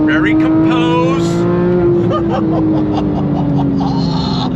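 A 2015 Porsche 911 GT3 with a PDK transmission brakes hard and downshifts, the loud engine note falling and stepping down through blips while someone talks over it.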